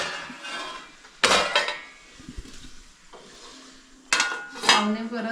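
Serving plates covered with plate lids: two sharp, ringing metallic clanks of lids set down on plates, separated by quieter handling and scraping noises in a home kitchen.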